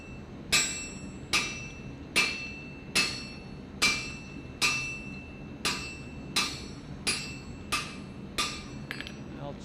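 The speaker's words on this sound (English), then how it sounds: "well, let me hammer first" Hot steel struck on an anvil while forging a leaf hook, about eleven evenly spaced, ringing hammer blows with short metallic decays, steady and fairly close.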